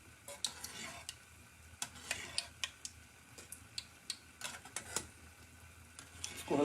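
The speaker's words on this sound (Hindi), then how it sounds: "इसको हल्का हल्का चलाते रहेंगे ताकि ये हर तरफ से अच्छे से इस पे कलर आ जाए, अच्छे से सिक जाए" Gulab jamun fry in hot oil with a soft steady sizzle while a utensil gently stirs them, giving repeated light clicks and taps against the pan.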